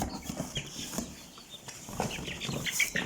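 Soft fluttering and scuffling of Ameraucana chicks nearby, with faint peeps and scattered rustling throughout.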